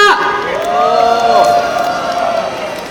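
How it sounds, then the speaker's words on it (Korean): A crowd at an outdoor civic protest rally cheers and shouts in welcome, a sustained swell of voices with whoops rising and holding before easing off. "환호해 주시기 바랍니다"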